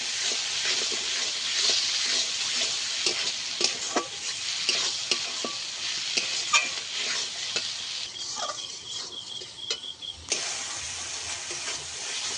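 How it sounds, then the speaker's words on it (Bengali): Cumin-heavy spice paste frying in oil for a Bengali aar fish curry, a continuous sizzle broken by frequent spatula knocks and scrapes, with a brief tonal rattle near the end. "মশলা ভালোভাবে কষানো হয়ে গেছে, এই যে এইভাবে কষিয়ে নিয়েছি, মশলা থেকে তেল ছাড়তে শুরু করে দিয়েছি।"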